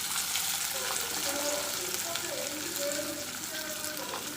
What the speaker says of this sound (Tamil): இப்போ வந்து நம்ம எடுத்து வச்சுருக்கிற வெங்காயத்தை வந்து இதில் ஆட் பண்ணி நல்லா வறுத்துக்கலாம்.